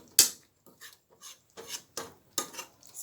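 A spoon scraping thick candied sweet potato sauce down the sides of a pot, a sharp first scrape followed by several softer, rhythmic scraping strokes, close and alone.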